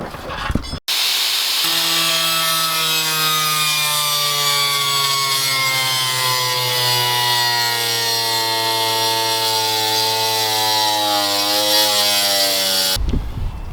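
A Honda S2000 hood being cut with a power tool, a loud continuous whining grind that slowly falls in pitch over about twelve seconds, close and harsh, with no talking.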